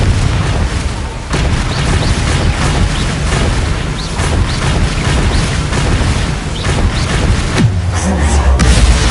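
Repeated Confringo spell blasts in the Hogwarts Legacy video game, loud booming bursts stacked densely over a constant roar of combat, with one deep thud near the end.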